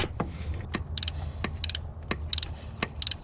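Hand ratchet tightening starter motor mounting bolts on a 2004 Porsche Boxster 986, short bursts of metallic clicking at intervals, close and fairly quiet, with small knocks between strokes.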